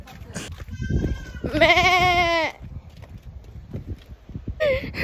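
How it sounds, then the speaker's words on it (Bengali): A goat bleats outdoors: one loud, drawn-out wavering cry near the middle, then a shorter bleat right at the end, over a low rustling, breezy background. "আরেকটা কোন ছাগল কান্না করতেছে"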